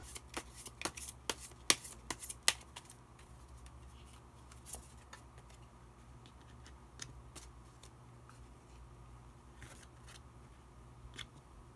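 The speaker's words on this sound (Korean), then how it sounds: "마지막으로 마법사 카드 한 장 더 뽑아보도록 하겠습니다" Tarot cards shuffled and drawn by hand, a burst of crisp riffling and flicking snaps in the first few seconds, then sparse soft card taps and slides over a quiet room hum.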